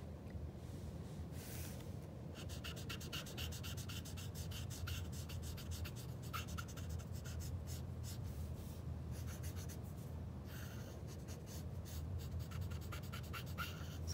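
Graphite pencil strokes scratch and rub across paper while eyelashes are drawn and shaded to darken an eye, a steady close-up scribbling texture that runs continuously with short rhythmic strokes and no talking.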